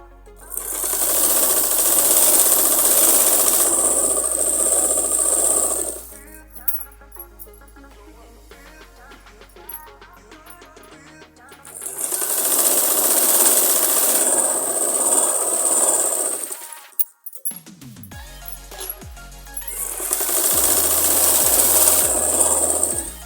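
Three long runs of a sewing machine stitching an 8-inch pouch hem, each a loud, steady whir, separated by quieter stretches of handling clicks and fabric rustle.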